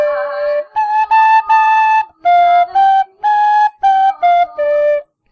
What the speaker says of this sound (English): So I've now switched from a D whistle to a C whistle, and I'm going to play again,